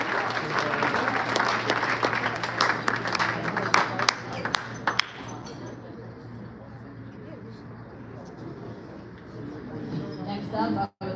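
An audience at a school sports awards dinner claps for the girls varsity soccer team, a loud burst of applause with a few whoops that thins out midway as an announcer's voice comes in over a hall hum.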